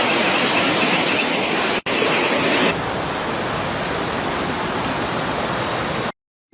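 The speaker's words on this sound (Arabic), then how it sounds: "شوفوا المي كيف عم تطلع على السيارة، اشي خيالي" Floodwater rushes over a road and a car near the Dead Sea in Jordan during flash flooding, a loud steady broadband roar that runs without a break until an abrupt cutoff near the end.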